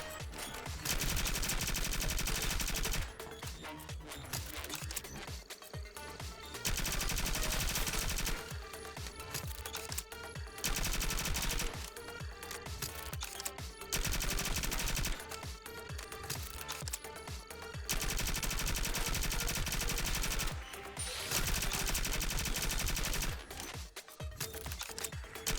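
Sustained bursts of automatic gunfire from the indie shooter Cybercorp, loud rapid-fire volleys alternating with shorter gaps of scattered shots in a repeating on-off pattern.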